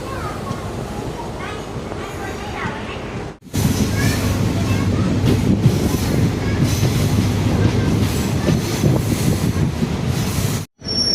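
A passenger train rumbles along the track into Gulma station in the Dooars, a loud, steady roar with wind buffeting, heard from on board, broken by two abrupt dropouts. Speech is mixed in.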